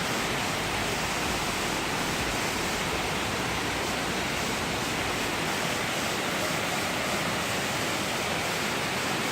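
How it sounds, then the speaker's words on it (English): Constant roaring rush of Amicalola Falls in Georgia, a dense even wash of noise that never changes, loud and close with no voices. "And this is just a waterfall."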